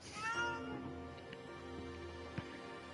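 A cat meows in the video game Okami, one drawn-out clear call at the start followed by quieter soft game tones and a faint background hum.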